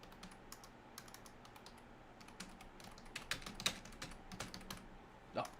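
Typing on a poor-quality computer keyboard, a quick, irregular patter of key clicks with occasional louder taps and a sharp clack near the end, close and fairly quiet.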